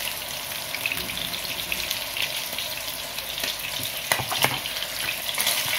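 Home-style meat cutlets fry in a pan with a steady, close sizzle and crackle, with brief louder spatters toward the end and no one talking.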